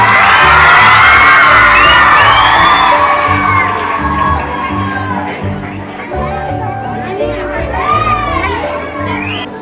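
A loud crowd of mostly schoolchildren at an Independence Day school celebration in Channapatna cheers and shouts, with clapping underneath, the noise strongest at first and then easing slightly.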